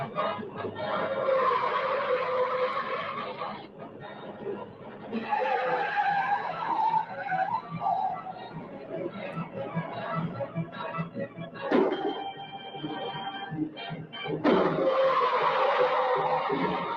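Old cars without power steering skid and squeal their tires in a video game, with long stretches of loud screeching broken by short pauses.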